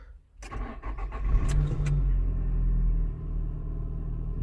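A cold Nissan X-Trail engine cranks briefly, then catches and settles into a loud, steady low rumble at idle, heard close up with no talking.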